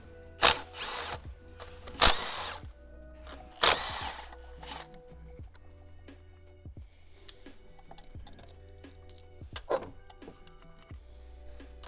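Power drill or impact tool spinning out the top motor mount bolts on a Gen 1 Chevrolet Sonic/Cruze during a Z04 turbo install: three loud, sharp bursts in the first four seconds, then quieter ratcheting and clicks, with no talking.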